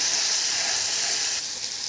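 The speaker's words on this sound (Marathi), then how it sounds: "आपण हळद टाकायची मिरची पावडर हे पण छान फ्राय करून घेऊया" Turmeric and chili powder frying in oil in a pan for boiled egg bhurji, a steady bright sizzle and hiss close up that holds evenly throughout, with no voices over it.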